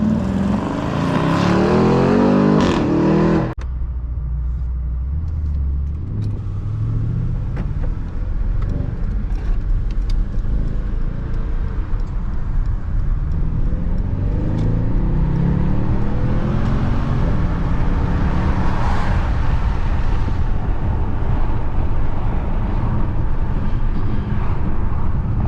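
Mercedes-AMG S 63 exhaust revving: a loud, sharp burst of engine revs at first, then a sustained, deep exhaust drone and engine roar that rises and falls as the car is driven.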